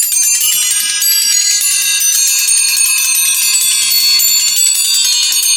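A bell tree with tape on it rings with bright metallic tinkling continuously, a dense shimmer of small high bell tones sustained without pause.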